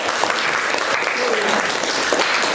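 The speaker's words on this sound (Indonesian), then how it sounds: "tepuk tangan dulu, aku." A classroom claps for a student group that has just finished a civics presentation, dense close applause from many hands throughout, with voices mixed in underneath.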